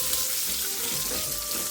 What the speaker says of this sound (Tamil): பெருங்காயம், சின்ன வெங்காயம் நல்லா வதக்கிக்கலாம்